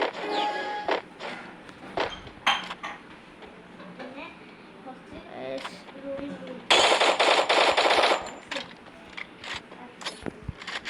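Rapid bursts of video game gunfire with sharp clicks and a dense stretch of continuous automatic fire, mixed with game sound effects and a voice talking over it.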